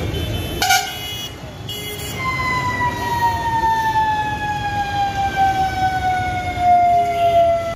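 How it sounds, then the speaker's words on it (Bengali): A fire engine siren wails continuously as the truck arrives at a shop and market area fire, its rising and falling tone clear over street noise and a brief honk. "খবর পেয়ে দমকলের একটি ইঞ্জিন উপস্থিত হয়ে আগুন নিয়ন্ত্রণে আনে।"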